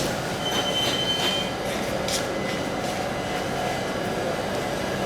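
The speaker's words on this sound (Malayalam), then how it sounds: "ട്രെയിൻ വന്ന് നിൽക്കുന്നേ ഉള്ളൂ" The Chennai Egmore–Guruvayur Express (16127) arrives and stops at a crowded platform, with a loud, continuous rumble of railcars, wheel squeal and metallic screeches throughout.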